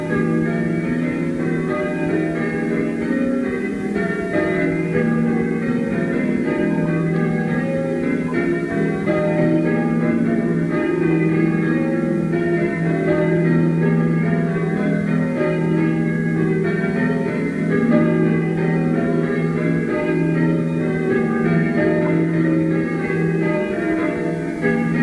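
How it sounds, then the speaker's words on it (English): Church bells of St Mary's Church peal out for an official Jubilee Day celebration in Chislet, a steady, continuous ringing that stays fairly loud and unbroken throughout with no talking. "the bells in St Mary's Church rang out in celebration of the official"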